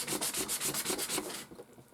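Sandpaper rubbed over an acrylic-painted Dollar Tree Valentine wall hanging, a close, steady run of rhythmic scratching strokes that stops abruptly near the end, leaving near silence.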